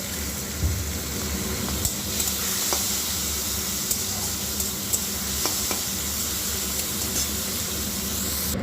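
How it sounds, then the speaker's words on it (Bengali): Steady sizzling of shrimp frying in hot oil in a pan, continuous and fairly loud, with occasional soft clicks and crackles over the hiss. "এবার চিংড়ি মাছগুলো দিয়ে ভেজে নেব"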